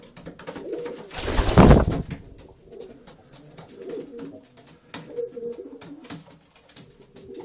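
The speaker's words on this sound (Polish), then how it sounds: "Ten gołąb z Ełku od kolegi Ryszarda." Racing pigeons coo in soft, low, repeated murmurs from several birds nearby, with one louder burst of fluttering wings or rustling partway through and the cooing continuing steadily afterward.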